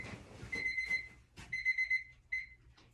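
An electronic alarm beeps in short repeated tones, steady pitch, fairly close, with a low voice murmuring briefly between the beeps.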